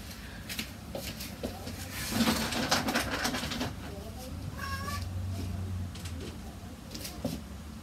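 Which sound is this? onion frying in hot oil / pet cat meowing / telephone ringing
pet cat meowing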